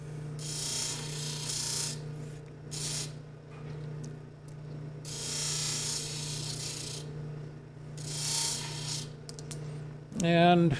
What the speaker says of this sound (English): I'm going to deburr.